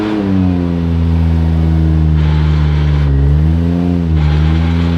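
A Toyota Soarer fitted with a twin disc clutch and new R154 gearbox idles loud and close, giving a steady low engine drone with a rich harmonic hum that wavers slightly, no speech over it.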